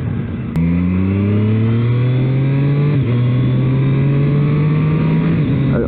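A 2023 Triumph Street Triple 765 R motorcycle accelerates hard and loud, rising through the gears with quick quickshifter upshifts that briefly interrupt the climbing engine note, no talk over it.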